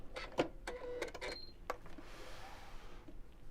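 A sewing machine makes a few short bursts of stitching back and forth to secure the top of a seam, quiet and close, with brief mechanical clicks between runs and a faint hiss afterwards.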